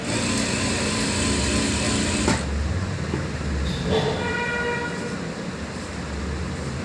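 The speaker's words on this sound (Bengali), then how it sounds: "এখন আমি রাবারের সেলাই দিচ্ছি না, রাবারের পাশে সেলাইটা দিয়ে নিচ্ছি।" An electric sewing machine stitches alongside the elastic waistband of a salwar, giving a steady, close whirring drone. The drone shifts and softens briefly about a third of the way through.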